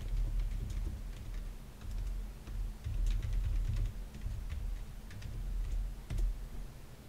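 Someone types on a computer keyboard at a steady, irregular pace, with soft close key clicks and occasional louder taps and no talking.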